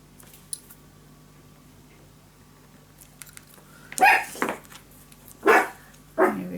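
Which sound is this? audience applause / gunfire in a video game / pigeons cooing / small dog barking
small dog barking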